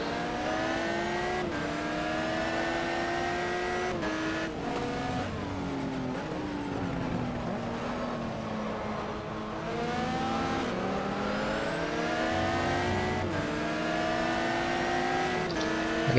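Race car engines in the GTR 2 FIA GT racing game at the Valencia circuit, loud, steady and close, with several cars revving and shifting gears as their pitch rises, drops and climbs again, and no talking over them.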